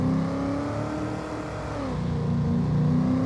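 A car engine in Farming Simulator 25 drones steadily at high speed, its pitch holding, dipping briefly, then rising again as it revs, loud and close with no talk.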